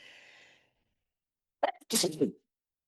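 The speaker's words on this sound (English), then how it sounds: "One moment, I think I need to sneeze." A soft breathy noise fades out, then after a brief silence comes a single sharp sneeze with a quick intake and explosive burst, close and clear.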